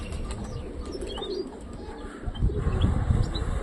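Young pigeons coo in a loft, soft repeated throaty coos mixed with a few higher chirps and faint wing rustles, close by over a busy background rumble, without speech.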